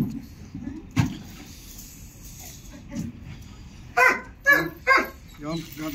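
Dog barks in short bursts near the middle and end, several sharp yelps amid handling noise and background voices during a mating session, some louder barks close by.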